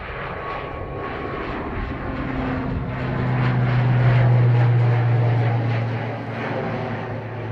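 An airliner on the runway 28 right at Dublin Airport gives a steady engine drone that swells to a loud, sustained roar and then eases slightly, heard from a distance with little else over it.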